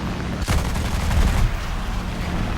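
A Japanese FW-190 A-5 fighter in War Thunder fires one quick burst from its guns, a sharp rattling crack that rises briefly above the steady roar of engine and wind.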